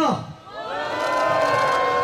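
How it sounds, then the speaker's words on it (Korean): At a street rally opening a peace march for inter-Korean economic cooperation businesses, a crowd lets out a loud, sustained collective shout and cheer lasting a couple of seconds. "힘찬 함성으로 시작하겠습니다"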